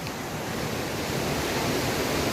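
Rushing floodwater surging across a farm after heavy rain, a dense, constant roar of fast-moving current, loud and unbroken with no voices.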